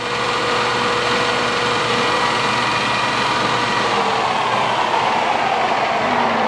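A Standard Modern 16-60 engine lathe with inch and metric threading runs steadily at 1280 RPM, giving a loud, continuous mechanical whir and hum with a broad hiss that holds constant throughout, with no talking.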